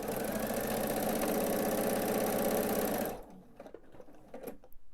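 Sewing machine stitching a tote bag handle about 1/8 inch from the edge, a loud steady rapid whir running alone for about three seconds, then stopping abruptly into quiet handling noises.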